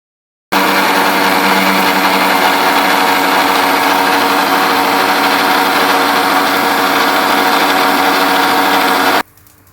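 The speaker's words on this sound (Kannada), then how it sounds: "ಮಿಕ್ಸಿ ಜಾರ್ಗೆ ಹಾಕ್ಕೊಂಡು ಗ್ರೈಂಡ್ ಮಾಡ್ಕೊಳ್ಳೋಣ" A mixer grinder runs steadily for about nine seconds, blending cooked tomatoes into a smooth paste for chutney. The motor whirs loud and close, starts abruptly and cuts off sharply, with no talking.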